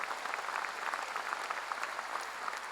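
A congregation at a Korean church revival meeting applauds in a steady, dense patter of many hands, moderately distant and fairly soft, with no voices over it.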